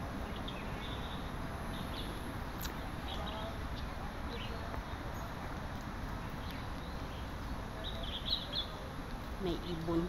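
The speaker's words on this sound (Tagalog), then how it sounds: "May ibon sa taas." Birds chirp faintly in a city park, small calls scattered over a steady wash of outdoor background noise with no talking.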